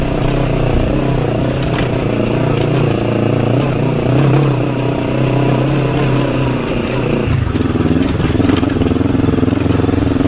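A motorcycle engine runs loud and close throughout, holding a steady throttle-driven drone that shifts in pitch partway through, with some mechanical clatter.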